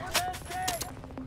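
Gunfire from the video game Wolfenstein: The New Order comes as a quick run of sharp, loud shots in a rhythmic burst, with a voice talking underneath.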